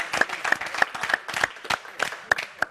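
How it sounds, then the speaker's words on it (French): Sparse clapping from a small audience for a performer on stage, individual claps heard at a fairly regular rhythm, moderately close and not very loud. "Je voudrais qu'on applaudisse très fort pour lui."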